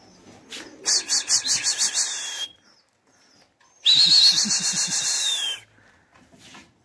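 Pigeons in a loft give two bursts of throaty cooing, close and fairly loud, separated by a short quiet gap, with no speech over them.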